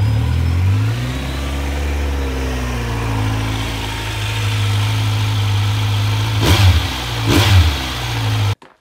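A Kawasaki Z900 motorcycle with its stock exhaust idles with a deep throb, then revs up and settles, followed by two sharp throttle blips before cutting off abruptly.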